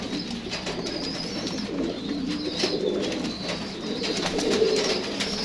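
A pair of golden pigeons cooing close by, soft repeated throaty coos rising and falling over a faint background hum.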